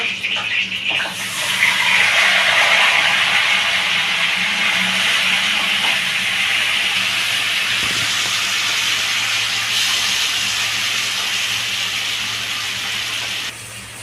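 Chicken and curry leaves sizzle loudly and steadily in hot oil in a home kitchen, a continuous close hiss that barely eases near the end.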